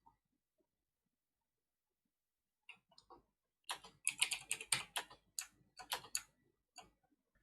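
Keys clatter on a computer keyboard as commands are entered in a Linux terminal, starting with a few isolated taps after near silence, then a rapid, close burst of crisp keystrokes with short pauses between words.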